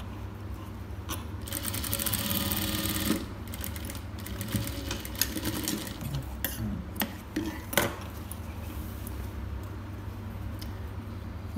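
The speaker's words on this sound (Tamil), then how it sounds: "திருப்பி பதிச்சு தையல் போட்டுக்கணும்." A sewing machine top-stitches a silk pattu pavadai sattai girl's dress, giving a close, busy mechanical chatter with quick clicks and small metallic rattles that continue throughout without speech.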